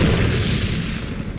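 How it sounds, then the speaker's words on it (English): A heavy, rumbling mortar explosion in the Medal of Honor (2010) video game booms loud and low, then rolls off into a long, dense decay. "Mortar inbound."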